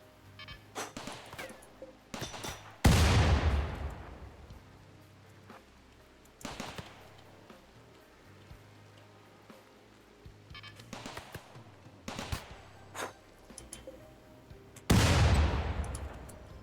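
Turret fire in a RimWorld colony battle: two loud, close blasts with long decaying tails stand out, while scattered quieter shots and pops fill the gaps.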